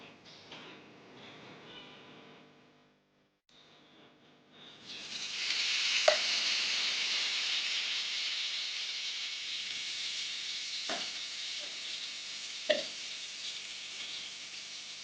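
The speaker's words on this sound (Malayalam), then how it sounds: "നമുക്കിനിയൊരു പാനിലേക്ക് വെളിച്ചെണ്ണ ഒഴിച്ചിട്ട് ഒന്ന് ഫ്രൈ ചെയ്തെടുക്കാം." Chicken frying in coconut oil in a pan, a steady broad hiss and sizzle rising after a quieter start and running continuously, with a few sharp pops and spatters breaking through near the cook.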